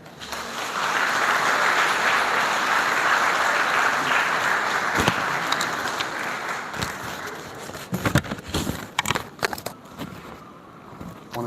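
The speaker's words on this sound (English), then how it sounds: "Please give her another round of applause." Audience applause at a graduation ceremony swells into sustained, even clapping from a crowd, then breaks up into scattered louder individual claps before fading out.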